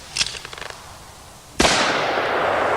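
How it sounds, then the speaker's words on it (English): A full-charge .44 Magnum revolver fires a single loud, sharp blast with a long trailing echo outdoors, preceded by faint handling clicks. "let's watch the gun in full recoil with a full charge .44 Magnum loading."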